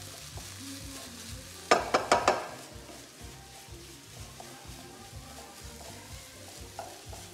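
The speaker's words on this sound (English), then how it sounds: "it's important to cook the onions and garlic because it takes away the sort of extreme flavour of it" Onions and garlic cook and get stirred in a pan, with a steady low sizzle and a quick burst of four sharp scraping stirs near the start, then quieter frying continues.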